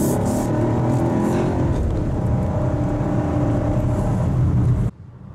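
A 2024 Buick Encore GX Avenir with a 9-speed automatic and all-wheel drive accelerates hard on a test drive, its engine droning loudly and steadily for about five seconds before cutting off abruptly.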